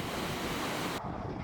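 Cross River Falls in Schroeder on Minnesota's North Shore, flowing under Highway 61, rushes as a loud, steady broadband roar of falling water, close and continuous, with no voices.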